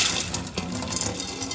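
Water pours and drains from a batch of rinsed dry black beans in a kitchen, a steady close splashing gush with a brief stronger splash partway through.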